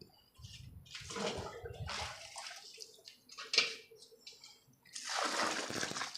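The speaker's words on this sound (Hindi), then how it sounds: "और पानी गिरा दे।" Water is poured in bursts into a cattle-feed mixture of porridge and jaggery, giving several gushing, splashing pours separated by short pauses, close and fairly loud, with no talking.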